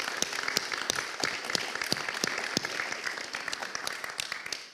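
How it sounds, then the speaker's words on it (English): The audience in a hall at the PyCon Greece conference breaks into sustained applause, a dense crackle of many hands with a few sharper individual claps, steady and fairly loud, without speech. "So I'll want another round of applause for this amazing audience."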